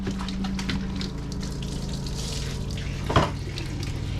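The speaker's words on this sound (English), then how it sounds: "And thank goodness I do have running water." Water runs steadily from a tap into a sink, a constant close rush with a faint hum underneath and a brief clink near the end.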